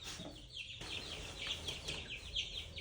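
Large chickens cluck and chatter nearby in a steady stream of repeated calls over faint background noise, with no talking.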